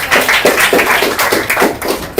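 A classroom of primary school children claps hands together in a quick, loud burst of repeated slaps, steady and dense for about two seconds with no talking over it.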